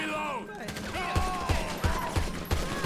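A heavy gun fires steady, evenly spaced shots in a zombie survival mod of GTA V, loud and close, with a voice speaking over the opening moments.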